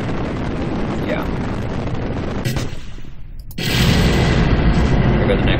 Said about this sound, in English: Here go the next rockets